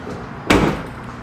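A car door on a restored car swings shut with a single loud, close thud, ringing briefly before fading into quiet background noise.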